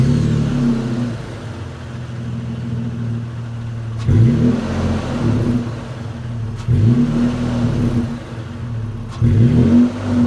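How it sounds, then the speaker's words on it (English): A modified Toyota Tacoma's engine runs at a steady rumbling idle, close and fairly loud, with three short revs breaking in at intervals before settling back. "give it a quick crank so you can get an idea for what the vehicle sounds like"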